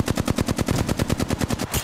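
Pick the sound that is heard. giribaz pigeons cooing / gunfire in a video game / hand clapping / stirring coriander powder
gunfire in a video game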